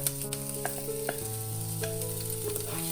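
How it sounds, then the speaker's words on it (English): Minced ginger frying in olive oil gives a continuous near sizzle with occasional stirring clicks, under soft tonal background music and without speech. "After that, drop 2 tablespoons of olive oil. Drop in minced ginger."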